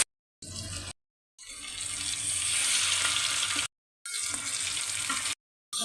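Fish pieces, some coated in semolina, sizzle in hot oil in a pan. Steady, hissing frying comes in several bursts separated by abrupt silent gaps.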